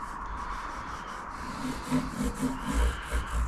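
A cloth rubbing oil into an Indian Laurel fretboard on a Squier Fender Stratocaster guitar, a soft close scrubbing that swells into firmer back-and-forth strokes near the end.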